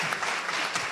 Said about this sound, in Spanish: a quien pedimos un fuerte aplauso por haber estado con nosotros